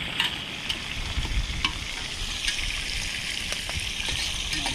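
Onions and garlic fry toward golden brown with a continuous bubbling sizzle, close by, punctuated by occasional light clicks of a spoon against the pan.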